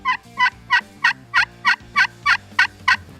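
A glass turkey call worked in short hen yelps, about ten evenly spaced, clear, close notes in a steady rhythm with no talking.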